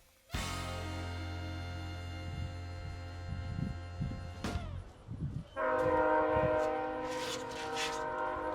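A train horn blares loudly with sustained harmonic tones, then a second horn blast follows as the train rumbles past close by.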